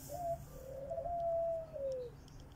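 A large pigeon coos in a long, low, wavering call lasting about two seconds, fairly close and clear over a steady background hum with faint distant chirps.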